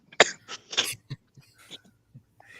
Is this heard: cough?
yes